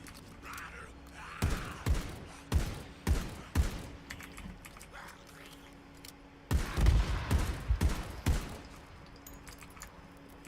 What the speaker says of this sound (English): Wasting ammo like nobody's business now.